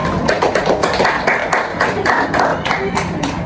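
Classroom of students clapping for a classmate during a group guidance session, a brief burst of hand claps mixed with some chatter and voices throughout.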